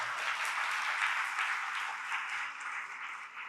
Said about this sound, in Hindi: बजाओ जोरदार ताली